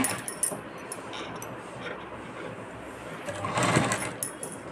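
A sewing machine stitches small tucks on a puff sleeve in a steady, fairly quiet whirring run, close by, with small clicks and handling noises and a brief rise near the end.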